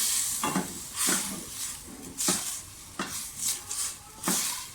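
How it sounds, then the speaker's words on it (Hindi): Chicken fries in a pan and is stirred, with a steady sizzle broken by repeated scraping strokes of the spoon against the pan at irregular intervals, close and fairly loud, without voices. "चिकन जो है वो हमारा पकना शुरू हो गया"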